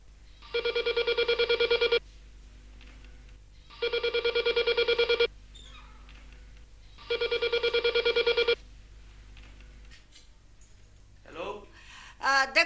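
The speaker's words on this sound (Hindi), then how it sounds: "दिलावर शाह को बुलाओ फोन पर" Telephone keypad tones sound in three bursts of about a second and a half each, evenly spaced, then a short stretch of room noise and a voice beginning to speak on the line.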